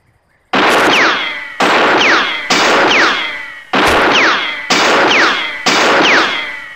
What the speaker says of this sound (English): You got 6 shots.